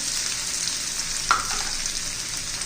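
Cluster beans (guar) stir-fry in a pan, giving a soft, steady sizzle close by with one brief stirring clink midway and no talking.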